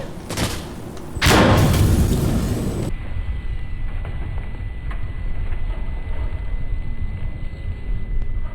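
A heavy RPG blast booms in an Insurgency Sandstorm match, a loud burst around the second mark that fades into a long rumbling tail with muffled ambience.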